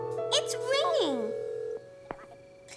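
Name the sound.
telephone ringing tone, cartoon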